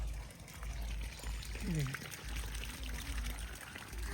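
Water pours steadily onto trees with a trickling, splashing texture under a low engine-like hum, while a voice speaks briefly in the background.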